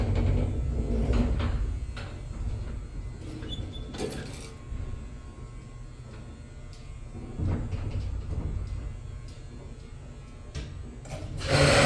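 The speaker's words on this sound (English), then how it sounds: "The inner door takes a while to open." The inner gate of a 1914 Otis gated elevator slides slowly open, giving a drawn-out mechanical rattle and rumble with scraping and clanks. Machinery hum runs underneath throughout.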